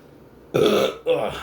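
Two loud, close burps in quick succession, the first longer and the second shorter, with no talk.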